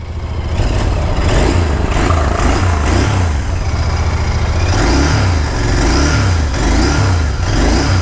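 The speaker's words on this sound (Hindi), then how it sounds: "ट्विन सिलेंडर इंजन है।" A 650cc twin-cylinder motorcycle engine revving repeatedly up and down in steady blips, loud and close, with no talk over it.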